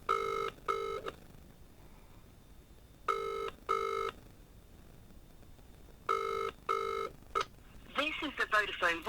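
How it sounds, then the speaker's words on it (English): A phone ringing after a call is dialled, three sets of double ring bursts with quiet gaps between them, followed by a voice speaking. "So we'll just ring him now."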